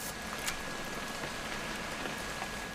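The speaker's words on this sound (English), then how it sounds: "It's gonna rain the whole weekend" Rain falling in the video game What Remains of Edith Finch, a steady hiss of drops spread evenly across the whole stretch, soft and continuous with no voices.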